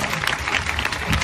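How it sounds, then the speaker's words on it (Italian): A short burst of audience applause, dense clapping filling the room at a steady level. "lui è Delio, un grande applauso"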